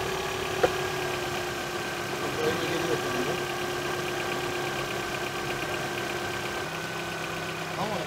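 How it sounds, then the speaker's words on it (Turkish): A Chevrolet Aveo with a fluctuating idle fault runs at idle nearby. It makes a steady, close engine drone with a faint tick and a slight wavering over several seconds. "Motorun sesi."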